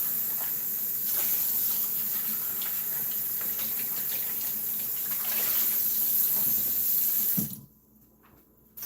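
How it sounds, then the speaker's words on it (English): A drink is poured out in a steady, splashing stream for several seconds, then cuts off abruptly, leaving near silence. "No, we're pouring this out."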